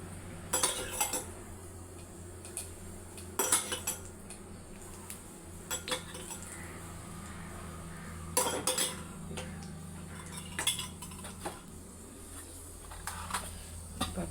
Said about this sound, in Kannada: ಪಡ್ಡಿಗೆ ಎಣ್ಣೆ ಹಾಕ್ತೀನಿ.